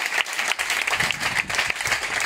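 A church congregation at a Wednesday prayer service applauds continuously, with dense, even clapping acclaiming Jesus and a faint murmur of voices underneath.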